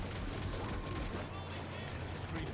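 Sniper rifle gunfire in the zombie shooter World War Z, dense and continuous with loud game combat and a low rumbling bed throughout, without clear separate shot transients.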